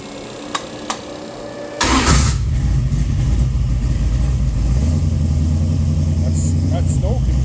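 A Mopar 340 stroker V8 with Trick Flow 190 heads and a mild hydraulic roller cam cranks and fires up outdoors in snowy weather, settling into a loud, steady rumbling idle after a couple of faint clicks; brief voices can be heard.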